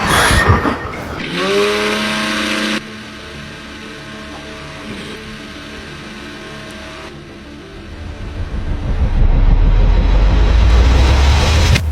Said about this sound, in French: Attends les bruits du mixeur, ok?